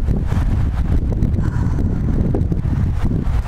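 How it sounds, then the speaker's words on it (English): Wind blows outdoors near a wildfire behind a residential area, a steady low rumbling buffet that fills the whole stretch with no clear pauses. "So the wind's blowing, which isn't good."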